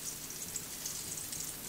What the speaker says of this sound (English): frying off chicken